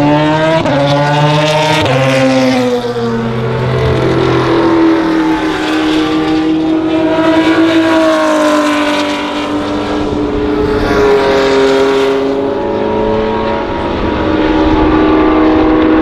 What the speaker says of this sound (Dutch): Dat is een Porsche